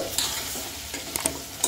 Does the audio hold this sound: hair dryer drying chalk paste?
no